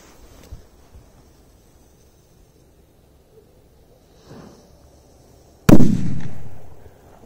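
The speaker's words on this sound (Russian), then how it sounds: "Давайте берем петарды. No Limits пошел." A single loud firecracker blast bangs up close and rings out with a decaying rumble, preceded by a couple of faint pops in an otherwise quiet outdoor scene at night.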